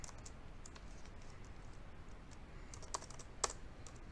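Soft keyboard typing while writing CSS code, faint light clicks in irregular runs over a low steady background hum, with a couple of sharper keystrokes near the end.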